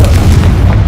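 A fiery Confringo blasting spell in the wizarding game Hogwarts Legacy bursts in a very loud, deep rumbling boom that fills the whole short moment without letting up.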